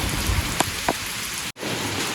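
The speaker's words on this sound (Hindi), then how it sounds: "ले भाई 5 बजे हुए दोबारा से फिर तेज बारिश आ गई।" Heavy rain pours steadily onto a surface during an evening downpour at a brick kiln, a dense even hiss with a couple of brief knocks and a short dropout midway, no talking.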